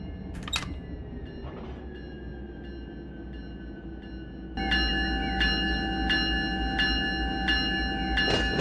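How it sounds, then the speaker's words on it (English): A locomotive bell in the Run 8 train simulator clangs in a steady, evenly spaced series of bright metallic strikes over a low rumbling cab drone, the ringing starting partway through and growing louder against the background hum. "It's a loud old bell."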